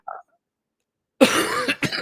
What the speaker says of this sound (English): The cough is going to be part of this podcast.